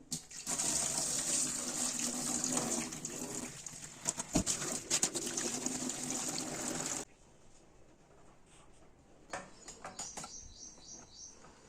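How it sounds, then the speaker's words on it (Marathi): Water is gently poured off soaked kurdai wheat starch in a container, a steady trickling and splashing for about seven seconds, then quieter intermittent drips and small knocks. "तर ह्यावरचं आता अलगद असं पाणी काढून घेऊ"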